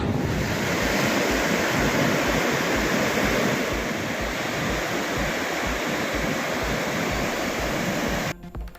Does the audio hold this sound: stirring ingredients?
no